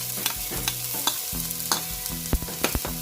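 Onion sizzles in hot oil with ginger in a pan, with a continuous frying hiss broken by repeated clattering stirs of a utensil against the pan, close up and with no talking.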